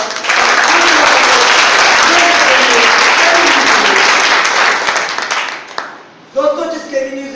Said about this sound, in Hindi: तो साहब एक बार जोश के साथ,